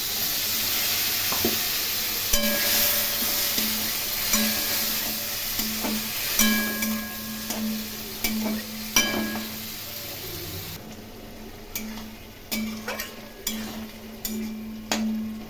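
Ground spices for a hilsa fish and brinjal curry fried in a pan with a splash of water, a loud sizzle fading through the clip as a spatula scrapes and knocks the pan repeatedly, with no talking.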